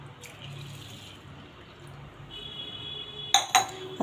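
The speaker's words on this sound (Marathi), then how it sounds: "आता यामध्ये पाणी घालून ठेवायचं आहे।" Water splashes steadily into a bowl of washed rice for veg pulao, a soft continuous trickling that ends with a couple of sharp clinks of a vessel.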